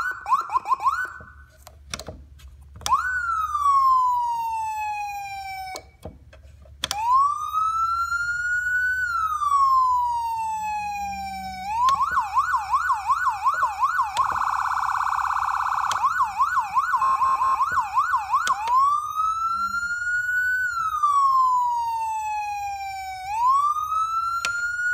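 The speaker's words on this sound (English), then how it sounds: "how you hook up the Federal Signal PA640 siren" A Federal Signal PA640 electronic siren cycles through modes: rising and falling wail sweeps, a rapid yelp, and a harsh warbling hi-lo tone, loud and close, running continuously for about twenty-five seconds with clicks as modes switch and no talking.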